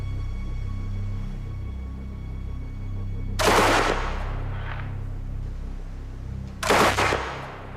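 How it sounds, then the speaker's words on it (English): Two separate gunshots strike steel plate as thick as the pilot armour of a German night fighter, each a sharp, loud crack with a brief ringing tail, fired a few seconds apart in an otherwise quiet setting. "I'm shooting at metal plate the same thickness as the armour on a German night fighter."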